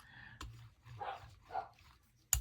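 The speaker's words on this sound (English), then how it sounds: "You'll probably hear my dogs barking from time to time because they're playing right now" Dogs playing indoors give a few faint, distant barks, two soft bursts spaced about half a second apart over quiet room tone.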